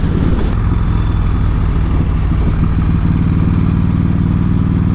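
A 1996 Harley-Davidson Road King with an Evolution V-twin engine idles up close, a loud, steady, deep loping rumble that carries on without a break and with no talking over it.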